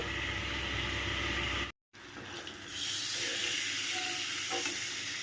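Pointed gourd (potol) pieces frying in hot oil give a steady, loud hiss and sizzle, broken by a brief cut of silence before the sizzling resumes slightly softer.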